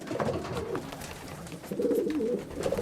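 A homing pigeon coos softly and close by, a low repeated burbling that rises and swells toward the end.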